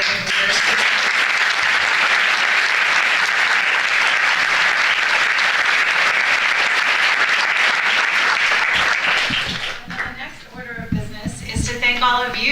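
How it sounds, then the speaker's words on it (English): Loud, sustained applause from a design forum audience fills the hall for roughly nine and a half seconds, then fades as a voice begins speaking over the tail. "give a big round of applause to all of the remarkable creative leaders"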